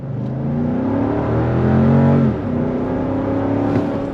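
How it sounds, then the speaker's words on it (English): A 2023 Lexus GX 460 SUV with a V8 engine accelerates under throttle, a loud, close, rising engine drone with steady harmonics that climbs, eases briefly and continues, with no talking. "Why don't we go ahead and do a little on throttle? On throttle."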